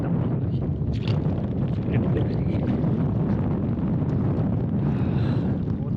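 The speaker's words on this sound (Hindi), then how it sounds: "बहुत तेज हवा चल रही है।" Strong wind roars steadily against the microphone beside the water during net fishing for tilapia, a constant loud rumbling buffet with no speech.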